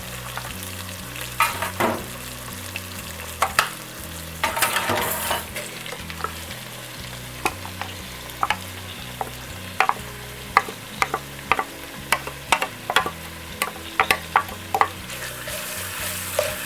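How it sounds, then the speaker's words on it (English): Onions frying in a pan alongside cooked chicken over medium heat: a low steady sizzle under repeated sharp spatula scrapes and clanks, close up. "So what I need to do now is add the onions."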